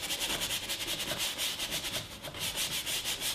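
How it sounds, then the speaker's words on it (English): A 1-inch brush scrubbing back and forth over wet oil paint on canvas, a steady, close rasping rub repeating in quick even strokes with no pauses. "it's very, very easy to switch to your 1-inch brush and just rub that out"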